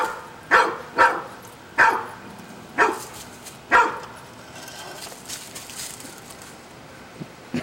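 A dog guarding its food gives five sharp, loud barks spaced about a second apart, then falls quiet. Faint background noise and a few soft distant chirps follow.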